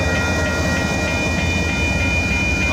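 Several trains rumble past on a railway line between Sampson and York Street in Houston, a loud, steady roar of rolling wagons with faint rhythmic clacking throughout.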